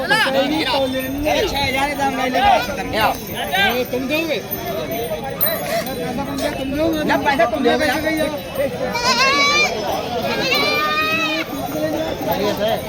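Goats and kids bleating at a busy livestock market in Bareilly, several animals calling repeatedly among crowd hubbub and nearby talking.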